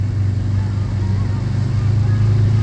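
A Ford and a BMW M3 race car wait at a drag strip starting line, making a loud, steady, close low engine drone that holds level without revving.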